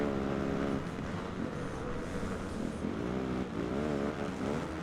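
Several motocross bikes racing in the video game MXGP Pro, a dense overlapping engine buzz with rising and falling revs, loud and continuous.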